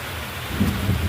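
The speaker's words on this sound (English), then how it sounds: "Oh, it's thundering." Thunder rumbling low and broad over steady rain, swelling louder in the second half with no talk.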